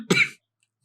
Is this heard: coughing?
yes